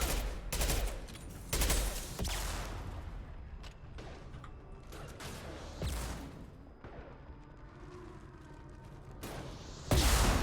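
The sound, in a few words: gunfire from the video game Mass Effect 2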